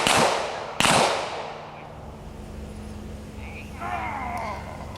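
Two sharp gunshots crack close by during police K9 obedience training, each with a decaying echo, followed by quieter outdoor ambience and distant chirping.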